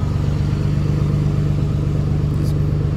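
A 760-horsepower Cummins diesel engine pulls a load at low RPM, giving a steady, loud, continuous low rumble with an even throbbing pulse and no talk.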